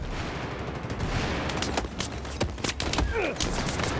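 Battlefield 4 multiplayer gunfire on the Metro map, a steady wash of distant shooting with sharper close bursts and whizzing rounds partway through, dense and loud throughout.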